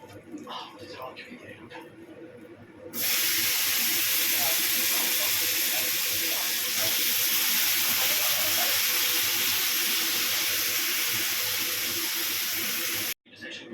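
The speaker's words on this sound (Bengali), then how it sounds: "এবার আলুগুলো ভেজে নেব" Potatoes frying in oil in a karahi give a loud, steady broadband sizzle that starts abruptly and holds for about ten seconds before cutting off, preceded by quieter kitchen noise.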